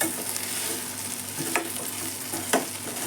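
Okra sizzles steadily in a pan of hot oil, a dense close frying hiss with a few sharp clinks of a stirring spoon against the pan.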